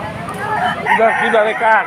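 Chickens at a busy poultry market cluck and squawk loudly up close in a quick run of calls, with faint crowd chatter behind them.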